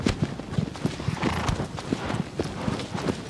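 Horse hooves clip-clop rapidly and steadily in the video game Shadow of the Colossus, a galloping rhythm heard close with no voices over it.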